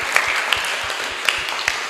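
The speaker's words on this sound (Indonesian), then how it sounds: "Kasih tepuk tangan itu." A school assembly audience at a high school claps in a steady wash of hands, moderately loud, with a few sharper individual claps standing out near the listener.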